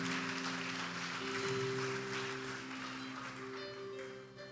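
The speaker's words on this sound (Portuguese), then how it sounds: "Aplaude." Applause from a church congregation during a Portuguese-language sermon: steady, dense crowd clapping that holds for several seconds over sustained keyboard chords.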